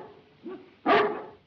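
A dog barks twice, a short softer bark followed by a louder, sharper one, fairly close over a faint background hiss in a 1935 film scene.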